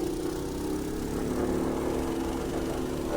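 A Coleman minibike's small engine running steadily, a loud continuous buzzing drone heard close up with no talking over it.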